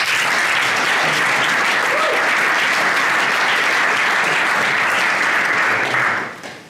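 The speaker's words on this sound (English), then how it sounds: "Let's give him a round of applause." Audience at a business event applauding to welcome a speaker to the stage, loud, dense and sustained clapping from a large crowd that fades out in the final moment.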